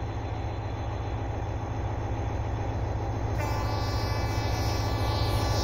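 Passing train in the Indian Train Simulator game on a Jammu Tawi to Pathankot winter run: a steady, loud rumble of wheels and cars throughout, with a bright tonal whine joining partway through as another train goes by.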